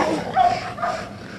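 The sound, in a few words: dog barking as a person tries to pet it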